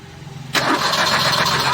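A Suzuki Wagon R fitted with a CNG kit cranks and fires up abruptly, then settles into a steady, close engine run with no talking.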